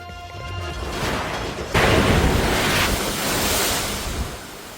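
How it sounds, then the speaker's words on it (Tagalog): Strong typhoon-driven waves crash against the shore of a coastal barangay in Iloilo City during Typhoon Uwan, loud and continuous with heavy surf roar and wind buffeting the microphone, swelling midway. "Malalakas na hampas ng alon ang naranasan sa ilang coastal barangay sa Iloilo City sa gitna po ng hagupit ng bagyong Uwan."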